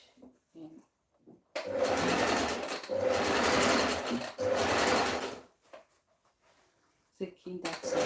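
Sewing machine stitching a dress: a loud close mechanical whir runs in two long bursts separated by a short pause, with brief quiet handling sounds and spoken words before and after.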